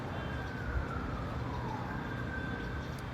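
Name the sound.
ambulance siren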